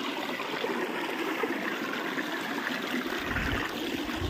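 Water pours steadily through a flooded field, a continuous rushing, trickling flow heard close and fairly loud without a break.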